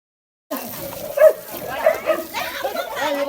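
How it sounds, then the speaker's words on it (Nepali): Dogs in a Nepali village during a Buddha Purnima celebration bark and snarl in a scuffle, with loud overlapping yelps and growls running continuously after a brief silence, mixed with voices and a busy outdoor background. "गाइजहरू यहाँ चाहिँ कुकुरहरू झडा परेको अवस्था"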